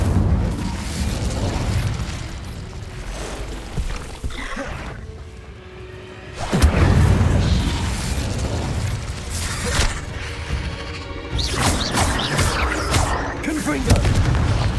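Incendio fire spells in the wizarding game Hogwarts Legacy go off repeatedly during combat, loud roaring bursts and booms interspersed with mechanical clatter and other spell impacts, with short quieter gaps between blasts.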